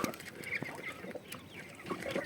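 Geese from a first brood honk and cackle repeatedly in a poultry yard, several birds calling close by in overlapping bursts with no voices over them.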